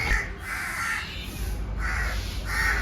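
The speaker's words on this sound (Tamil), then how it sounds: "இந்த ஒரு மரத்தில் கிட்டத்தட்ட ஒரு 100-150 குருவி உட்காந்துக்கிட்டு கத்திக்கிட்டே" A flock of roughly a hundred or more small sparrows calls from a single tree, bursts of dense chattering chirps rising and falling in waves over a low rumbling background.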